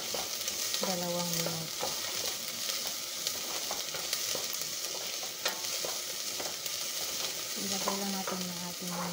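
Onions frying in a pan for spaghetti bolognese, a continuous loud sizzle with stirring scrapes and a faint beeping tone twice, a few words spoken briefly.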